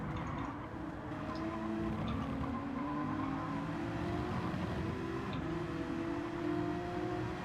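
Race cars in a video game roar down the start-finish straight at Interlagos, one chasing close in another's slipstream, a steady loud engine drone with rising and shifting pitch throughout and no pause.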